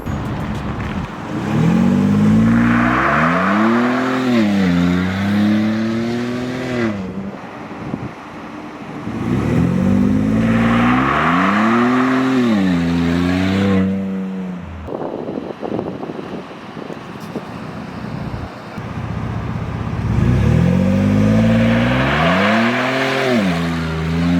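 A 2022 Ford Bronco with a Whipple supercharger revs up hard in three loud launches. Each pull is a rising, wavering engine roar, and wind noise buffets the microphone between the runs.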